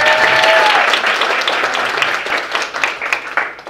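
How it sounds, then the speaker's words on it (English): A big round of applause for Father Jim Parke rises from a community gathering, loud and dense at first, then gradually thinning into scattered claps as it fades. "Everyone give Father Jim Parke a big round of applause."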